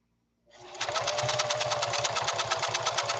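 Singer sewing machine stitching a blind hem with a wide, very short stitch: after a brief silence, a loud, close, steady rapid needle chatter with a fast even rhythm runs to the end.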